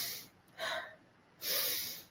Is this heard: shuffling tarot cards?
no